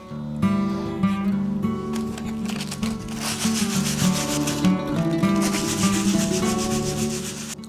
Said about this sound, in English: You start sanding.